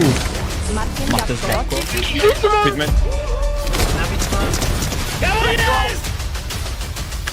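Firecrackers burst in rapid irregular volleys of sharp pops and cracks, loud and close, overlapping with people talking and shouting throughout.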